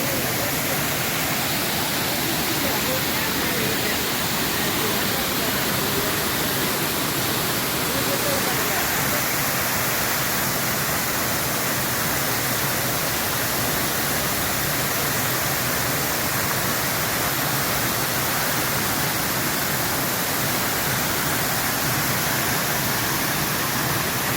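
Steady, broadband rush of water pouring over rocks at a waterfall in Vattavada, Kerala, constant and fairly close, with no pauses throughout.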